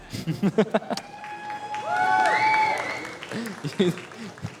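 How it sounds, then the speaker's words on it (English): An audience at the EpiCon eSports Challenge Summer 2014 finals breaks into a short burst of applause, mixed with voices talking and calling out over it. "you guys may clap."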